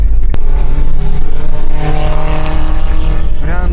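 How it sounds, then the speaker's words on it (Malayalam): A car engine revs hard at night as the car drifts, with a steady loud roar and rising tone toward the end, close by, and faint voices underneath. "Oh, you're drifting at night."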